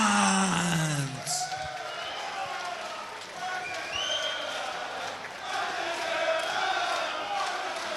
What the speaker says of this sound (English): The crowd go wild.